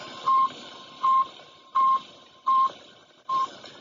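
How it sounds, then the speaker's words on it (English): Recorded radio beeps from the Soviet Sputnik satellite sound as five short, evenly spaced tones over a steady hiss of static. "That sound is actually the sound that Sputnik made."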